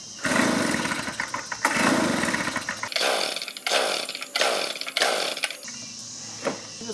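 Two-stroke leaf blower or string trimmer engine being tested during a no-spark repair, revving hard at full throttle in rough bursts that cut out and restart repeatedly, close and loud.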